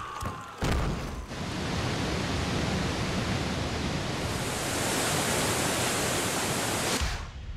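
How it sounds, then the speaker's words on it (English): A waterfall from a Street Fighter 4 ending scene gives a steady, dense roar that runs alone for about seven seconds and then cuts off abruptly. "It all starts with Ryu sitting next to his favorite waterfall."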